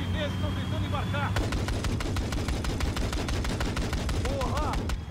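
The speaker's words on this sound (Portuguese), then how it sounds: "O fogo está acertando a gente." Rapid gunfire from an enemy helicopter in the video game Battlefield 4 rattles in dense bursts for several seconds, loud and continuous, with voices and game effects underneath.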